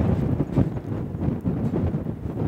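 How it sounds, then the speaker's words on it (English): Wind buffets the microphone outdoors, a steady low rumbling gust that swells and dips throughout without letup. "Oh, the wind I don't like. That wind does not help."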